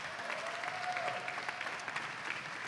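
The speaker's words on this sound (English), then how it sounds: "Give them a round of applause." A steady round of applause from a crowd at a Super Smash Bros. Melee tournament, dense continuous clapping at moderate loudness with a faint whistle-like tone running through it.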